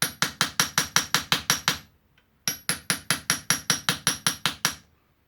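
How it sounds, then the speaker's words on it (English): A hammer taps a punch into the center of a Tillotson carburettor for a Vire engine, two bursts of about nine to ten quick, evenly spaced sharp metallic strikes separated by a brief pause, close and clear. "position the punch in the center, and then tap away until you've sunk down the center about 1 millimeter."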